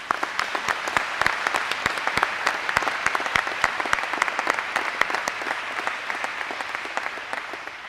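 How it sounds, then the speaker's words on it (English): An audience at an eighth grade graduation applauds steadily, with dense, close clapping from many hands that holds for several seconds and fades slightly at the end. "let's give another round of applause to Elizabeth Rabolski."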